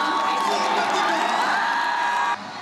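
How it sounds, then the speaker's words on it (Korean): Huge stadium crowd of about 45,000 roaring and cheering at Lim Young-woong's ceremonial kickoff at a Korean pro football match: a loud, sustained wall of voices that drops off sharply near the end, with a narrator speaking over it. "임영웅 씨의 시축에 경기장은 떠나갈 듯했고"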